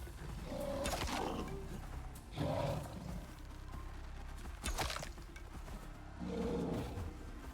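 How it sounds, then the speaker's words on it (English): Wild wolf in the survival video game Voyager: Recovery, a few loud, harsh roaring howls rising from a rumbling, noisy background, spaced several seconds apart with no voices over them. "There, you see there's a wolf behind him."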